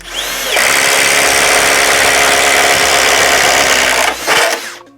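A Flex power tool with a 1-inch bit runs on a 2.5 Ah stacked lithium battery, a loud, close, steady whine that spins up sharply, holds for several seconds, then winds down and cuts off.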